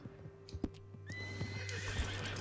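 A horse neighs in the Red Dead Redemption Online video game, a loud whinny rising over a steady low hum, with soft hoof clops and thuds before it and no talk.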